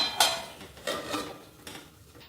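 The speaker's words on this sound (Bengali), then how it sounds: "এবার এটাকে ঢাকা দিয়ে রেখে দিই" A lid is set over a dish of flattened rice with a few close metallic clanks and clinks, the first the sharpest, then a couple of lighter taps.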